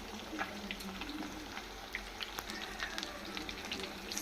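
Chicken kabab coated in red chilli paste frying slowly over low heat in a pan, a faint, even crackle with scattered soft pops and spits throughout, no voices.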